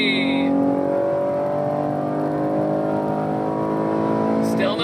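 A Chevy Camaro RS with a V6 accelerating hard from a 40 mph roll, its engine note loud and climbing steadily from inside the cabin, with a voice speaking over it near the start.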